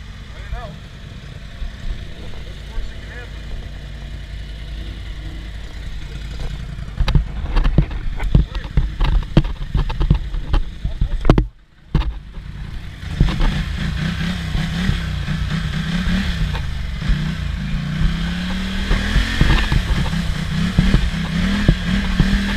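Off-road truck stuck in thick, peanut-butter-like mud with a broken winch and one wheel spinning, engine droning then revving hard in repeated surges, cutting out briefly before climbing again, loud and close with voices present.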